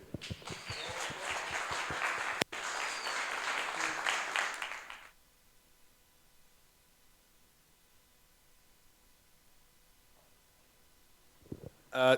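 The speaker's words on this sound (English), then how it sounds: "So a big applause for Beeman" Brief applause from an event audience after a speaker is introduced, a few seconds of clapping that cuts off abruptly into near silence, with a faint burst at the very end.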